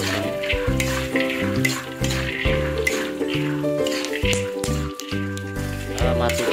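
Peanut sambal sizzles in a pan while it is stirred without pause, a dense crackling fry with rhythmic scraping and a steady background drone.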